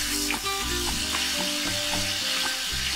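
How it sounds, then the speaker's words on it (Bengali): Tomatoes hit hot oil with already fried spices for a koi fish curry, setting off a loud, continuous close-up sizzle that stays steady throughout, with no speech. "ফোড়নটা ভাজা হয়ে গেছে, এবার টমেটো দিয়ে দিচ্ছি"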